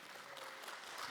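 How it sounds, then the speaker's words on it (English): Audience applause following a question at a live talk with Brendon Burchard and Erwin McManus, a short, steady wash of clapping at moderate level with no talk over it. "Give a round of applause."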